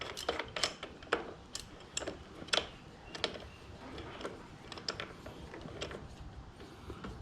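A crank puller tool threaded into a Shimano Deore Hollowtech crank makes quiet, close, irregular metallic ticks and clicks, scattered in short bursts with no voices.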